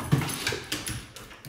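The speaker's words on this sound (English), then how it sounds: "Here comes the dog!" A dog whimpers in short, soft bursts while its claws patter across the floor as it runs after a laser toy indoors, faint and close with a few brief yips.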